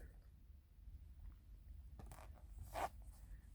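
A zipper is pulled once on a small Coach camo corner-zip wristlet, a brief close ripping zip in a quiet room after a faint rustle.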